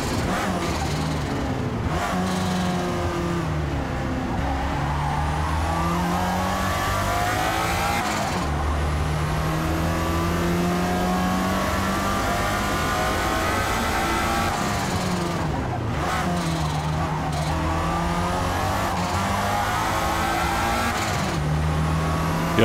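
A Lotus Esprit V8 races around Daytona in the Forza Motorsport game. The engine drones loudly and continuously, revving up through gears with several sharp shift drops, the note climbing again after each change.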